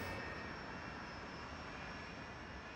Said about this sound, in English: Bashkirian Airlines Flight 2937 leaves Moscow. The plane is a Tupolev 154.